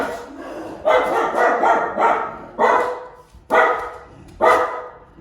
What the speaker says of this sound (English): So when somebody comes to our front door, MAXXIE barks.